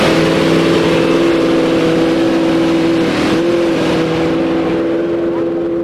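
A hillclimb race car engine roars loudly and continuously, holding a high, buzzing pitch with a brief dip and shift in tone partway through.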